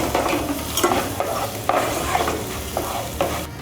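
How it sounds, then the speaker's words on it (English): Chopped onion and garlic sauté in a saucepan, sizzling loudly and continuously under repeated scraping strokes of a spoon, with no talk. "we're going to be adding our onions, chopped onion, and our garlic. We are going to saute."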